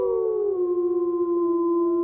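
A wolf of Yellowstone's Druid pack howls at night: one long, clear, tonal howl that slides down in pitch and then holds steady, with no other sounds around it.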